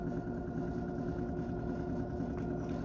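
An Egenerator motor runs with a steady, even mechanical hum and faint whine, holding a constant tone at moderate level with no voices over it.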